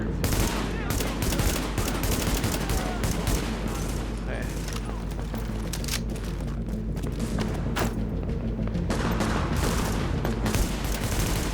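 Dense, continuous gunfire from The Division, set in a collapsed New York City: rapid bursts and volleys layered with heavy thuds and booms that keep up for the whole stretch, with no quiet breaks.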